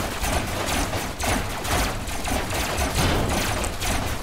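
Sustained automatic weapon fire in the robot-vehicle combat game Robocraft, a continuous, busy rattle of shots with mechanical clatter that runs the whole stretch at steady loudness, with no voices.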